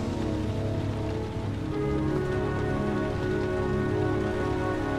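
Steady rain in the Heavy Rain video game patters densely on surfaces, a constant close hiss running unbroken for the whole stretch with no voices.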